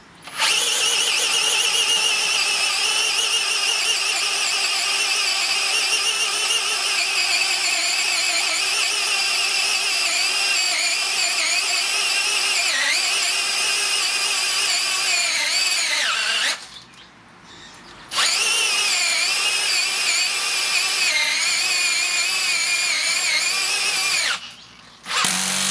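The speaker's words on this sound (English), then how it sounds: "Stick her on speed 1, however, and we can just gently drill ourselves a hole" A Makita 40V cordless earth auger drills a hole in dirt, its motor whining loud and steady with a brief pause partway through and a short stop near the end.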